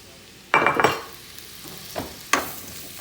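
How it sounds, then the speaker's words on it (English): Mushrooms sauté in an oiled pan with a soft background sizzle, broken by a few sharp scrapes and clinks of a utensil stirring them, close and moderately loud, without speech. "And then I add the mushrooms. And I saute them."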